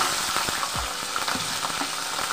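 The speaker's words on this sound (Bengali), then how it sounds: "এবার তেলের ভিতরে কাঁচা লঙ্কা দিয়ে দিলাম" Green chillies dropped into hot oil with whole cumin seeds sizzle and crackle sharply, with a few quick pops and stirring scrapes over a steady frying hiss, close and alone.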